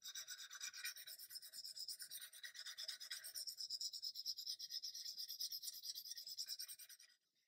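Steady back-and-forth rasping of fine-grit wet sandpaper on a plastic 1/72 ICM MiG-29 model kit, a continuous close scrubbing rhythm for about seven seconds before stopping abruptly.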